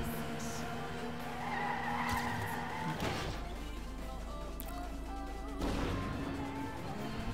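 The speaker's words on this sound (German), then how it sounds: "Ja, ich drifte." Car drifting in the racing game Trackmania United Forever, sustained tire skidding and engine whine with two sharp bursts of screeching, loud and continuous throughout.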